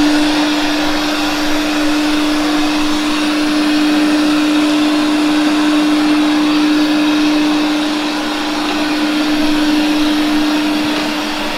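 A realme TechLife robot vacuum cleaner starts up and runs indoors, giving a steady, loud motor whir with a constant tone and broad airy hiss that holds evenly throughout, with no talking.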